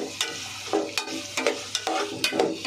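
Onions sautéing and being stirred in a pan for a fish curry, a steady close sizzle broken by repeated scraping stirs every half second or so.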